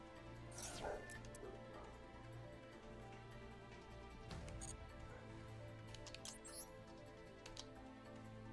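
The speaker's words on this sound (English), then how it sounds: "Sorry if you hear the dogs barking." Dogs in the background giving a few faint yips and barks, one sharper bark early on, under a steady low hum and a quiet indoor room tone.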